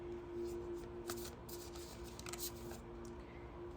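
Soft papery riffling of cards being shuffled, a steady run of quiet shuffles with a low steady hum beneath.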